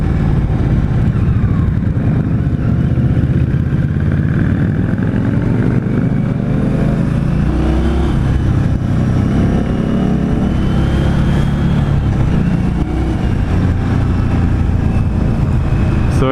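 Indian Scout Sixty 2016 motorcycle running at speed on the road, a loud continuous engine drone with heavy wind rush throughout and some shifting pitch as it pulls.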